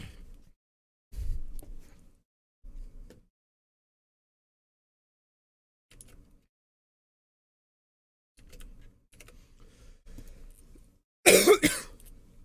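Several short coughs and throat clearings from one person, close and dry, spaced by silence, ending in a louder burst of coughing.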